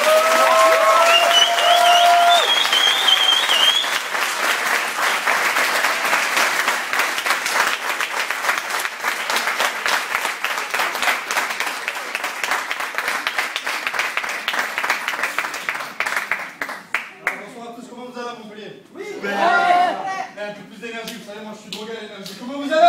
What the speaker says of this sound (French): un tonnerre d'applaudissements pour Reda Chérif